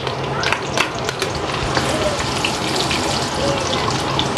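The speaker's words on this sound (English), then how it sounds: "I already have my oil here, so it's already hot. So I'm going to be putting in my onions." Onions dropping into already hot oil in a pan, a dense continuous hiss of frying with a few crackles and clatters early on, close and fairly loud throughout.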